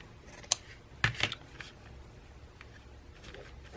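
Scissors snip fabric scraps such as eyelet and lace into short pieces about two inches long, giving a few quiet, crisp cuts spaced over a faint room background.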